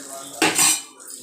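Soaked tamarind is poured into a pot of tempered horse gram soup, a short burst of splashing liquid with a metallic clink of the vessel, close and brief, rising from near silence.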